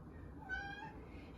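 A cat gives a single soft meow, faint and fairly close, over a quiet background.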